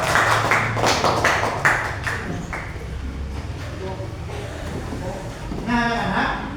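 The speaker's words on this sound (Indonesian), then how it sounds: "Tepuk tangan." Children in a sixth-grade classroom clap their hands together in a burst of applause, loud and close, with a teacher's voice and chatter running over the clapping.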